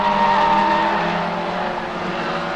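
Race cars roar around the Arena Essex oval in a Rolling Thunder Show event, a loud sustained engine drone with a whining tone and tyre noise as the pack sweeps down the back straight, no voices.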